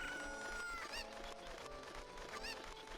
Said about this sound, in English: So, I'm going to grab a chicken.